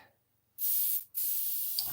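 Two short bursts of a spray nozzle hissing water while cleaning a slot car track, close and fairly loud, separated by a brief pause.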